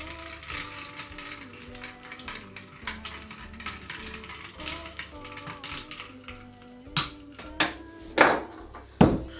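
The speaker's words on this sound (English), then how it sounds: "now give it a good stir" A cider apple old fashioned cocktail topped with Stella apple cider is stirred in a glass, giving a run of light rapid clinks, then a few louder sharp knocks near the end.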